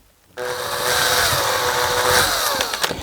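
A power drill whines loudly at high speed, drilling into plastic inside a car door, starting abruptly and grinding steadily for a few seconds before stuttering at the end.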